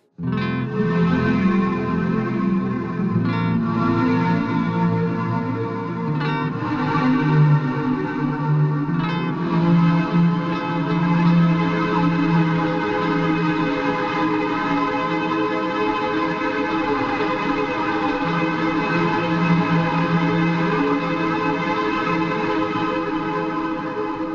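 Dense, washed-out guitar through shoegaze effects pedals, drenched in reverb and modulation, swelling chords blurring into a shimmering wall with bell-like echoes, steady and loud throughout.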